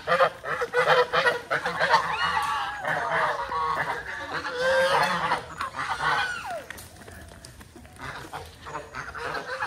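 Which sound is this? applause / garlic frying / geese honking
geese honking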